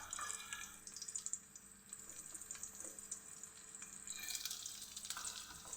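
Chopped garlic frying in melted ghee in a pan, a steady close sizzle with crackling and a few stirring scrapes, growing brighter toward the end, no voices.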